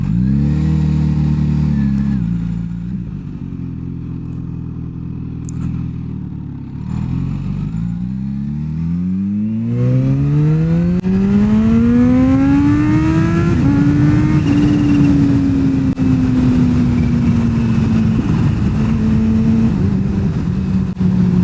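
A Kawasaki H2 SX SE motorcycle with a Scorpion slip-on exhaust idles low, then revs up through rising gears, its exhaust roaring loudly and steadily close by, with a small pop.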